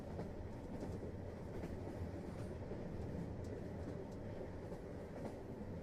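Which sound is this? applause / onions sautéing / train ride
train ride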